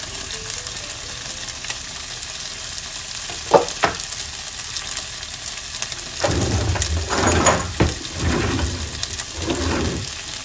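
Garlic and onion sautéing in oil in a frying pan, a close steady sizzle that swells louder partway through as the pan is stirred, with a few sharp utensil clicks against the pan.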